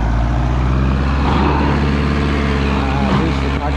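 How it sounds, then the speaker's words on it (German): A tractor engine runs on a farm during maize chopping, a loud, steady, close diesel drone with a low constant hum under a voice speaking German. "Ah, das ist der Traktor."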